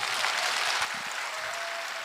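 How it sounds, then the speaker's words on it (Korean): A church congregation at an outdoor revival meeting in Sangju claps in a steady, dense wash of applause that lasts throughout, with no voices on top. "박수 한번 하겠습니다."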